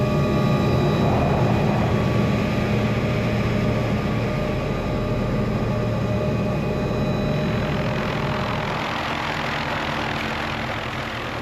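A helicopter runs while gear is loaded for a mountain camping and hunting trip, its engine giving a loud, constant droning roar with no speech, easing slightly toward the end.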